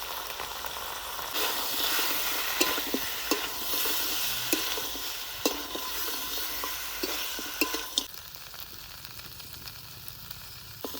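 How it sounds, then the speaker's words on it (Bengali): Spiced country chicken is stirred and sautéed in a wok, a spatula scraping and knocking rhythmically through a constant oily sizzle that softens after about eight seconds. "মাংস কষানো হয়ে গেছে হালকা তেলও ছেড়ে দিয়েছে মশলাও লেগে যাচ্ছে কড়াইতে"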